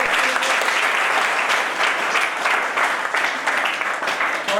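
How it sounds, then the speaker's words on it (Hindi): Audience applause for a team of members at a felicitation ceremony at Pachane Tirth, steady and dense clapping from a crowd throughout, fairly loud with no talk over it. "तो ऐसे हमारे मेंबर्स की टीम एक बार जोरदार तालियां फिर से"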